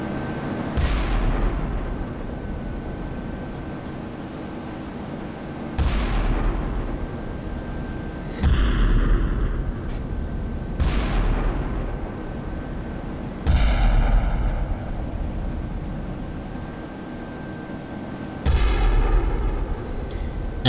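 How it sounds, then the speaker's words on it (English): Heavy naval gunfire from German battleships Scharnhorst and Gneisenau in the game Sea Power, booming broadside salvos landing at roughly regular intervals with rolling rumble between them, loud and without voices. "That's 1 full broadside and then 1 final turret."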